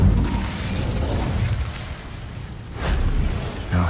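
The Incendio fire spell from Hogwarts Legacy is cast with a loud, roaring burst that sustains for several seconds, then flares again in a second surge near the end.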